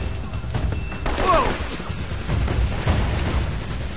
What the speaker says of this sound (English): this is getting too much shooting